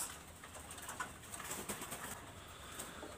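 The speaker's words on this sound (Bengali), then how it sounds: "এখানে একটা পেয়ার আমি কবুতর দেখাচ্ছি। এটা হলো টাইগার ডাবলা কবুতর" Tiger dabla pigeons coo softly amid faint background hiss, with a few scattered soft calls and light rustling over about three seconds, no voices.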